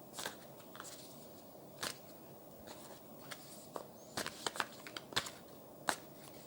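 Tarot cards being shuffled in a quiet room, a series of soft, dry riffling and flicking bursts at irregular intervals, growing busier toward the end with no talk over them.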